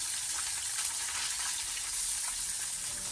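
Fish frying in a pan gives a steady, fairly quiet hissing sizzle that holds evenly throughout, with no speech.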